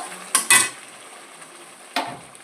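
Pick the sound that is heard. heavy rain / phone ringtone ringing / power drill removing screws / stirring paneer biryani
stirring paneer biryani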